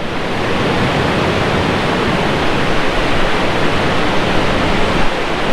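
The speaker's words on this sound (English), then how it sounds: "The water's rougher, and it's way up here." Rough water rushes and churns in a loud, steady broadband roar, like heavy surf washing close by with no pauses.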